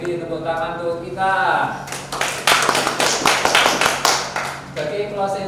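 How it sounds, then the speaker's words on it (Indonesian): A small audience at a community communication meeting gives a short round of clapping, close and fairly loud, bracketed by a voice speaking before and after. "tepuk tangan untuk kita"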